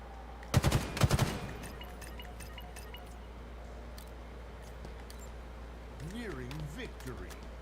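Video game gunfire rattles in two quick bursts of rapid, close shots early on, then gives way to quieter background game noise while a voice speaks later.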